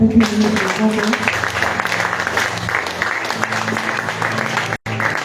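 A church congregation claps at an anti-witchcraft prophetic service, a dense, steady wash of applause filling the whole stretch with a brief cut near the end. Faint voices or music hum underneath.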